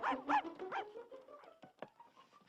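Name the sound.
small dog barking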